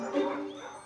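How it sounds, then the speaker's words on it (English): Cartoon dogs yelping and whimpering in one short burst, close and fairly loud, fading toward the end. "What are those dogs doing out?"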